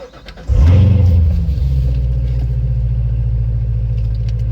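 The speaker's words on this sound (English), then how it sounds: "We're going to take you on a quick driving POV of this 2017 Corvette Z06." A 2017 Chevrolet Corvette Z06 with a 7-speed manual fires up loud and close, revving hard for a moment before settling into a deep, steady, rumbling idle-drive drone with no talking.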